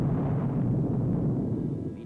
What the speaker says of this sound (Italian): Per batterie intere si continuò a fare fuoco